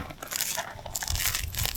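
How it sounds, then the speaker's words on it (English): Close bites into a crispy s'mores crust give two short bursts of crunching, the second louder and longer, with crackly texture and no talking over them. "Oh yeah. that Like a crunch."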